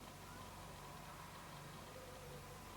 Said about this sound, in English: there's a tractor